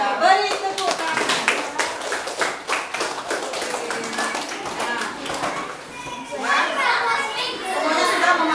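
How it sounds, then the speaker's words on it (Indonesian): Schoolchildren in a classroom clap for a presenting group, a steady run of fairly close, busy claps over several seconds, with children's voices and talking mixed in. "Iya, beri tepuk tangan."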